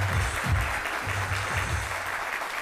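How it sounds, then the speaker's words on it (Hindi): A television studio audience on a talk show claps steadily, a continuous moderate patter of many hands heard over a low background hum, with no voices. "ताली हो जाए।"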